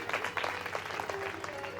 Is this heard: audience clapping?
yes